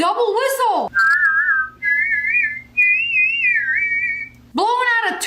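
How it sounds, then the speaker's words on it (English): Sustained two-tone whistling blown from both sides of the mouth, two pitched lines moving together in a wavering melody, loud and close, between brief bursts of a voice. "Blowing out of two sides of his mouth."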